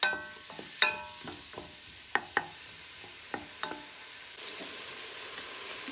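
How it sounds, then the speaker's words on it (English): Onions and green onions fry in coconut oil in a pan, a soft continuous sizzle punctuated by sharp stirring clicks and pops, then a louder burst of hissing near the end. "now that the onion has been frying up"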